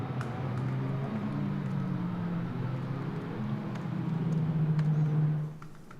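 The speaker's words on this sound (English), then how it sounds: "safety car leading the cars around on the track that is drying" ADAC Formula 4 race cars trailing a safety car around the drying Nürburgring track: a continuous moderate engine drone that fades out abruptly near the end, with no voices over it.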